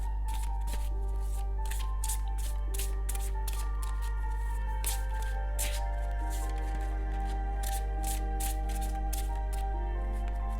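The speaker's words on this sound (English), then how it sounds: "So let me shuffle a couple of other decks." Tarot card decks being shuffled, a steady run of crisp riffling and snapping bursts repeating through the whole stretch over a constant low background hum, with no talking.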